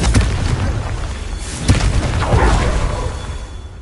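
A heavy, booming blast from the Confringo fire spell in the Hogwarts Legacy video game, loud and close with a sharp crack midway and a rumbling, whooshing tail throughout.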